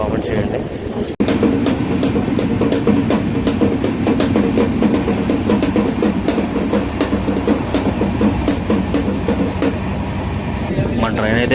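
From inside a general coach of the Swarnajayanthi superfast express, the train rolls through Anakapalli station without stopping, with loud continuous rumbling and a regular clickety-clack of wheels over rail joints.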